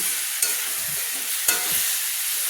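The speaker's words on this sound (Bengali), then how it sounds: "আমি ভালো করে কিন্তু আবারও ভেজে নিচ্ছি বাঁধাকপিগুলোকে" Shredded cabbage fries in a pan with pepper powder added, a continuous close sizzle broken by two sharp scrapes of a spatula stirring, no talking.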